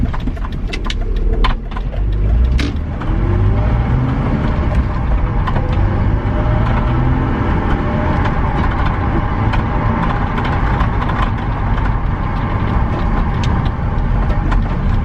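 A BMW E46 323ci with a recent fuel and misfire fault idles steadily up close, a smooth, even mechanical hum with light ticking throughout and no one talking.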